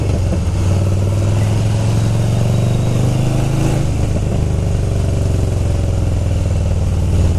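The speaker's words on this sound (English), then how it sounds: "the exhaust sounds good today" A car's exhaust and engine rumble steadily while driving in humid, dense air, a loud continuous drone with a shift in pitch partway through, close by and with no talking.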